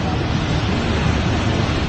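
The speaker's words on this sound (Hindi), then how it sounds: "अलकनंदा और मंदाकिनी नदी उफान पर है।" The flooded Alaknanda river rushes past in a dense, unbroken roar of churning water, loud and close, with a windy rumble and no pauses.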